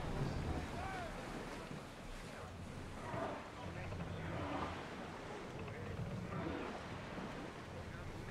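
In Assassin's Creed Odyssey, a ship sails across the sea, with a faint, steady wash of waves and wind rushing around the hull, and soft murmurs drifting through the ambience.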